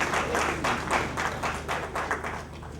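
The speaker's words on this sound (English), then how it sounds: "A round of applause for ourselves." Attendees at an annual lecture clapping in rhythmic pulses, a close, fairly loud patter of hand claps that comes in regular waves, with no voices over it.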